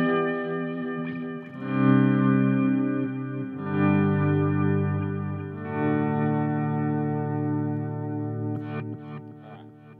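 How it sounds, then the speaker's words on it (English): An electric guitar runs through an auto volume echo effect on a Quilter Interblock 45 amp, its chords swelling in smoothly without attack and trailing into echoes. A few short picked notes close the phrase, loud and close with no talking. "Here's some auto volume echo."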